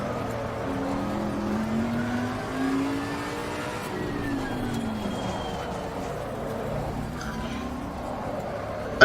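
A Bentley GT3 race car engine in Assetto Corsa Competizione at a wet, dark Nurburgring drones and revs through gear changes at moderate loudness, a steady engine note rising and falling across the stretch.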